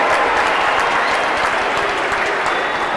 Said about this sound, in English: So as they walk out, continue to applaud, give them a standing ovation.